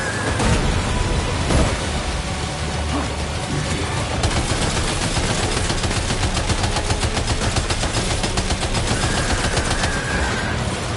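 Sustained machine gun fire in the Death Stranding 2 video game, a dense rapid rattle of shots that runs without pause, loud and close, layered with booming impacts and a wash of noisy battle din.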